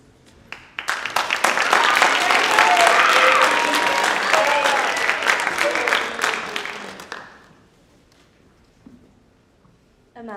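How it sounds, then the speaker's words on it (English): Audience applause at a youth philanthropy finals presentation, a full, bright burst of many hands clapping that swells quickly, holds for several seconds, then fades away into quiet. "Round of applause is appropriate."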